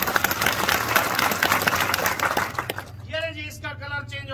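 A school audience claps hard and fast during a magic show's handkerchief colour-change trick, dense applause for nearly three seconds before a voice speaks.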